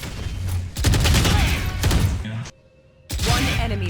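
Phantom rifle fire in the tactical shooter Valorant, loud bursts of gunfire and impacts that briefly drop to near silence before another burst.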